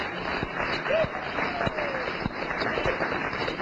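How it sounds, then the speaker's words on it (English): Audience at a compensation plan business presentation applauds a woman called up on stage, a steady wash of clapping from a crowd in a hall that continues throughout. "give her a round of applause"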